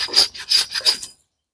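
A shop towel wetted with isopropyl alcohol rubbed over a part on a 1996 Ford F250 during a misfire repair: four short, close rasping wipes in quick rhythm, then silence.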